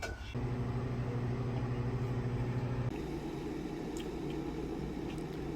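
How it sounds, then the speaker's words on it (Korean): Microwave oven heating instant beef seaweed soup, a steady droning electrical hum with a low buzz that shifts in tone partway through, then a softer whirring continues alone. "전자레인지에 넣고"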